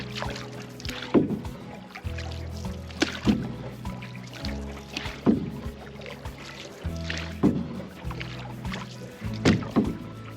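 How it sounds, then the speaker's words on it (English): Canoe paddle strokes on calm water, each a close splashing pull and drip repeating about every two seconds in a steady unhurried rhythm, with faint trickling between strokes and no talking. "And then settle in for hours and hours of paddling."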